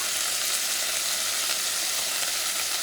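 A chunk drops into a hot pan on medium-high heat while squid ink rice cooks, giving a loud, even sizzle and fry that carries on without a break, close by.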